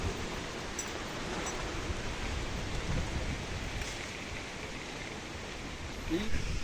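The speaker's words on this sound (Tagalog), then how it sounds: "Ayan ay hangin. Yung bagyo." Steady, rushing broadband noise of strong typhoon wind, constant throughout with slight gusts, with faint voices mixed in beneath.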